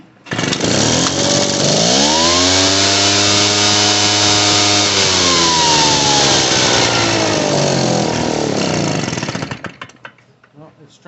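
A Poulan Pro PR46BT backpack blower engine on full choke catches and roars loudly for several seconds, its pitch rising then sagging as it struggles to keep running before dying away.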